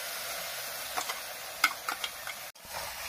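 Masala paste for a small-fish curry fries in a pan, a steady sizzle with scattered soft ticks and scrapes as it is stirred, continuous throughout with a brief dip near the end.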